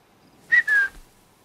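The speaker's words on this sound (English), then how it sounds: "let's whistle him over" A short two-part whistle calls a companion in Horizon Zero Dawn, a clear rising tone followed by a longer falling one, heard alone against near silence.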